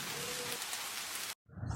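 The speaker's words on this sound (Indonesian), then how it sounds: "tiba-tiba angin bertiup kencang dan hujan deras pun datang" Heavy rain with strong wind is a dense, steady hiss that cuts out abruptly near the end, then a low gusty rumble swells back in.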